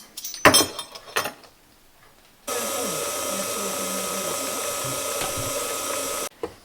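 An electric mixer beats cheesecake batter with vanilla extract on medium speed, a steady loud whirring drone lasting several seconds after a few clinks of utensils against the bowl.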